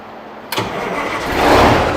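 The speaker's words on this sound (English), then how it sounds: "So cranking test, please start engine." A car engine cranks briefly and then catches and starts during a cranking test, rising into a loud, steady running roar that swells toward the end.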